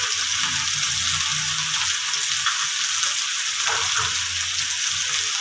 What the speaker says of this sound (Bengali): দিয়ে একটু নেড়ে চেড়ে নিচ্ছি